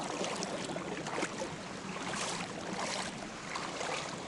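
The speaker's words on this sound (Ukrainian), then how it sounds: "спуск човна на воду." Steady broadband splashing and rushing water as a small fishing boat is launched into the Dniester River, continuous and fairly close, with no voices.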